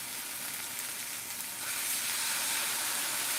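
Sticky pork chops fry in oil with a bright, steady sizzling hiss that swells louder and denser halfway through as spattering builds, close and alone without talk.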